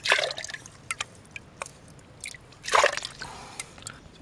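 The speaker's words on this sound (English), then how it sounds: "I'm gonna try and use my lid to scoop the water out," Stream water scooped with a pot lid into a billy can outdoors in winter: a few soft splashes and drips, then a louder sloshing pour near the end, close and fairly quiet with no talk.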